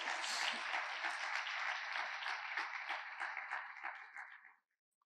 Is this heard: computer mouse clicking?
no